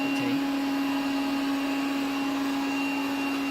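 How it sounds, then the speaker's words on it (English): Household vacuum cleaner running steadily at moderate volume with a constant motor hum and whine, no talk over it. "You have the feature there so you can operate the vacuum cleaner."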